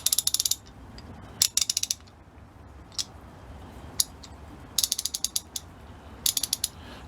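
An old Craftsman ratchet clicks in quick, crisp bursts of several pawl clicks, broken by single clacks as the direction is switched, all close and loud against a quiet background.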